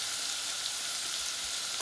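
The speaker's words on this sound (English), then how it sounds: "we'll go ahead and keep on stirring and roasting this thing for a while" Vegetables stirred and roasted in a hot pan as the base for Korean spicy silken tofu soup give a steady, soft sizzle with faint scraping of stirring, constant and close throughout.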